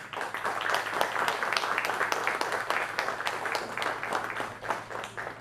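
An audience at a film festival master class claps to welcome a film editor on stage, a dense, sustained round of applause, fairly near and steady from start to finish.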